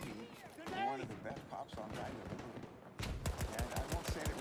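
Video game gunfire sounds as rapid bursts of shots, with a dense volley near the end, heard alongside a man's speech and other game noise.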